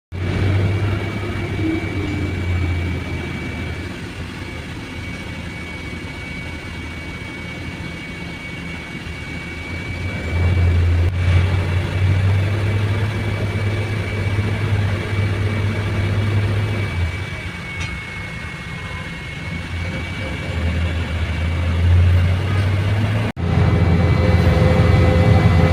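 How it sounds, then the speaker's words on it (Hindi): Steady road traffic in Dubai, a continuous low engine rumble and tyre roar from passing vehicles that swells and eases in waves, with no talking over it. "मैं आपको दिखाती हूँ कि रास्ते में आते वक्त कितना ट्रैफिक मिला"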